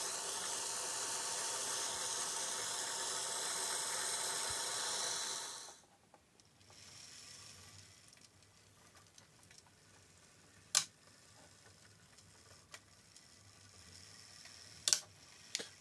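A vintage Piko HO gauge model locomotive made in East Germany runs on its track with a steady, fairly quiet whirring buzz for several seconds before cutting out, followed by faint clicks and a few sharp ticks.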